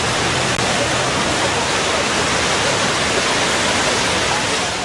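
Heavy rain pours steadily during a severe storm in the UAE, with floodwater pooling in low-lying streets; a loud, unbroken hiss of falling water fills the whole stretch without pause.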